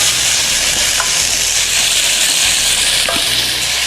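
Chopped tomatoes are stirred into a frying onion-ginger-garlic masala, producing a loud, close, continuous sizzle with a few scraping stirs and light clinks, no speech.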